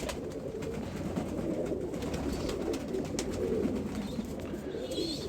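A pigeon coos softly and steadily among a flock of domestic pigeons, low murmuring calls over a constant background hum, with a few faint higher chirps.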